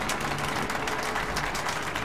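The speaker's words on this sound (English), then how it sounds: "A round of applause to cheer our great musicians on." Crowd applause for musicians inside a theater in the video game Metro: Last Light, a dense, steady wash of clapping lasting the whole moment with no pause.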